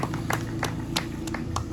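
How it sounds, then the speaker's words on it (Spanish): A church congregation claps together, with rhythmic hand claps in a steady beat of roughly three per second over a low background hum, at moderate loudness. "Ese aplauso sea para el Señor."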